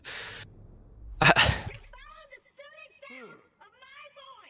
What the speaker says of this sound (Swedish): Så nysar du.